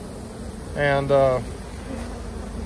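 Honey bees at a hive give a low, steady buzz that carries through the whole moment, and a brief spoken word rises over it near the middle.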